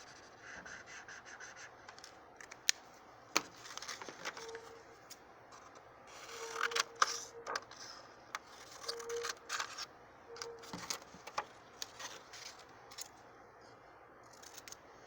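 Scissors snipping through recycled paper while a snowman puppet's triangle nose is cut out, with irregular close snips and rustling scrapes spread across the span, no talking.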